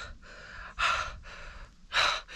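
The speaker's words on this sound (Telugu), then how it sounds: "పరిగెడ్డం బరువుతో కదా ఆయాసం విపరీతంగా ఉంది" Heavy panting breath of a hiker climbing a volcano trail in a national park in El Salvador, close and loud, with rhythmic in-and-out gasps and two strong sharp inhales.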